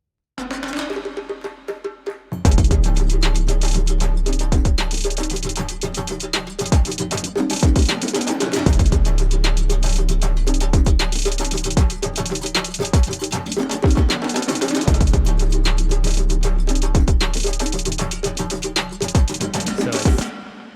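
Trap drum pattern with heavy sustained 808 bass running through a compressor: dense, loud, pumping mix of rapid hi-hat ticks, punchy kicks and snares over a deep droning low end, continuous for about twenty seconds without talk.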